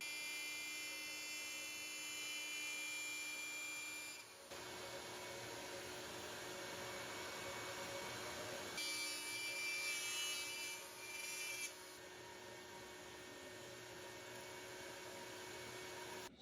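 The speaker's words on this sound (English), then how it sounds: "So I have to route the majority of it out and leave about 4 millimeters for the cover" Power tool routing into a wooden electric bass guitar body made from a rocking chair, a steady whining cut with rubbing wood texture that shifts in pitch and intensity over several passes, loud and close with no talking.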